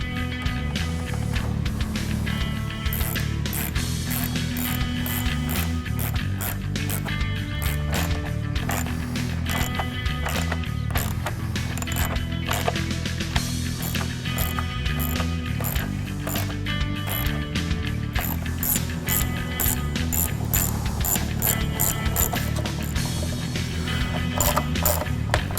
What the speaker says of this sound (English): Now we're going to reinstall the bolt and 7 nuts that we removed from the shutter.